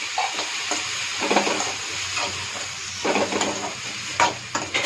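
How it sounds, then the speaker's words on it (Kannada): Chopped capsicum frying in oil in a pan, a steady close sizzle broken by repeated scraping stirs of a spoon against the pan, with no voices. "ಇದು ಹಾಕ್ಕೊಂಡು ಹುರ್ಕೊಂಡು ಚೆಂದಾಗಿ ಎಣ್ಣೆಗೆ ಫ್ರೈ ಮಾಡ್ಕೋಬೇಕು"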